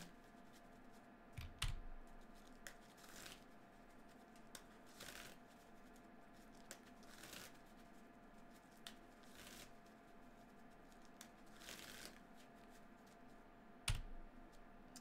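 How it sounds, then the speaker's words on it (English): Quiet, close riffle shuffling of a Magic: The Gathering deck, with soft papery bursts and clicks recurring every second or two, no talk. "Same thing I'm always riffling."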